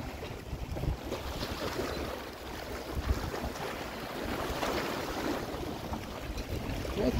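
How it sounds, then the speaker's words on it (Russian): Small waves lap steadily along the shore of Lake Garda in Italy, where yachts are moored, with constant wind rumble over the whole stretch and no voices. "тишина, покой, и только волны, и только кораблики"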